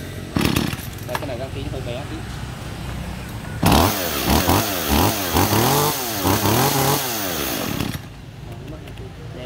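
A Makita MEA3210M chainsaw engine idles, then revs loudly in repeated bursts, with someone speaking briefly in Vietnamese over it before it settles back to idle.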